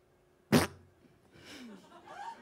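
A person does a vocal imitation of a loud fart, one short sharp burst followed by quieter voiced sounds from the performer.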